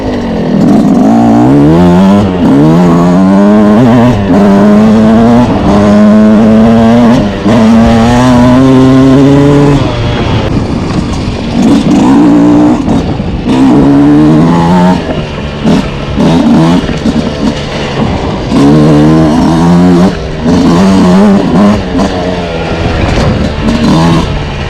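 A 2026 Yamaha YZ125X two-stroke dirt bike ridden over rocky trails, its engine loud and close, rising and falling in repeated revving bursts as the throttle opens and closes, with a few brief dips between pulls.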